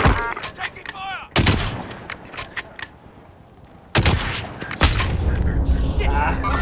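Call of Duty: Modern Warfare gunfire, with sharp, loud volleys of shots and booms cracking out in bursts, then a dense sustained barrage near the end, with voices in the mix.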